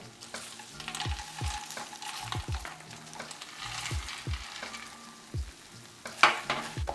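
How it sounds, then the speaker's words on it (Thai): Vegan curry paste is stir-fried with textured soy protein and fried kaffir lime leaves, giving a quiet continuous sizzle with repeated scraping and knocking spatula strokes in an irregular rhythm and a sharper clatter near the end. "เราจะผัดจนพริกแกงเขาคายน้ำมันออกมา"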